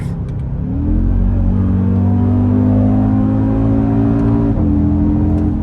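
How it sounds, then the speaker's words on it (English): An Audi RSQ3's 294 kW five-cylinder engine revs up loudly and holds a rising, warbling drone for several seconds before dropping back, close and alone with no talk. "typical 5-cylinder wobble out the back"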